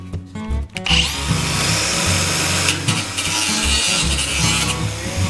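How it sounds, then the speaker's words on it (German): Power tool cutting through metal extraction duct pipe at its bead during a workshop dust-extraction install, with a brief knock, then a loud, sustained high grinding whine close by. "Hier bei diesem Wulst werde ich genau in der Mitte schneiden."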